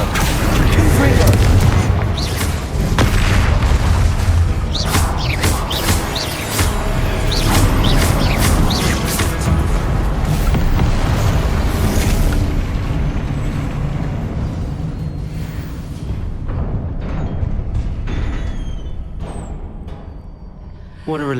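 Confringo spell blasts in Hogwarts Legacy on PS5, a run of heavy booming explosions rumbling through a chaotic battle mix with voices calling out, fading toward the end.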